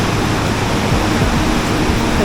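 A powerful waterfall in New Zealand with a large volume of clear water roars as a loud, steady, broadband rush that fills the whole scene without pause.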